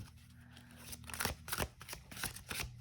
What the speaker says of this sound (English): let's go ahead and give all three of these a shuffle